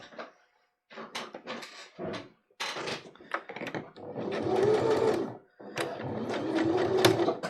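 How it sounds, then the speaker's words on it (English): A sewing machine stitches fabric for a reusable mask, starting with a back stitch: short stop-start bursts of whirring motor, then longer steady runs, close and clear with no talking. "So I start with a back stitch,"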